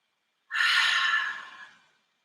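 A single long, deep breath during a yoga cleansing-breath exercise, close and airy, rising quickly and then tapering off over about a second and a half.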